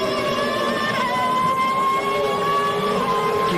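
Formula 1 race cars at the 1998 German Grand Prix roar continuously with steady high engine whine and shifting pitch, loud and close with crowd-like background noise, no talk.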